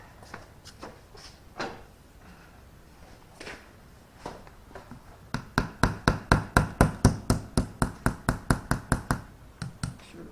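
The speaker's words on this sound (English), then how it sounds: "Let me get a hammer real quick." A hammer taps pins into a custom fillet knife handle, first a few scattered knocks, then a fast, steady run of sharp, close strikes that trails off near the end.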